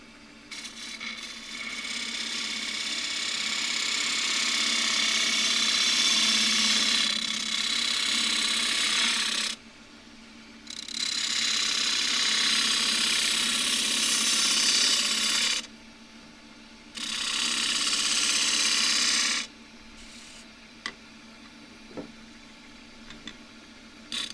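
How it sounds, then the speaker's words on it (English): A spindle gouge takes a shear cut on a large crossgrain wooden box spinning on a wood lathe, a steady hissing scrape that runs in three long passes separated by short pauses, with faint ticks and taps between them. "I'm now going to take a shear cut up from the bottom and probably do that again with the spindle gouge"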